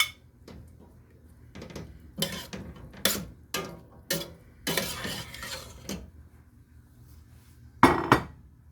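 Potatoes going into a cooking pot for a stew of a fatty butcher's cut, heard as scattered clinks, knocks and scraping of pot and utensils in uneven bursts, with a louder double clatter near the end.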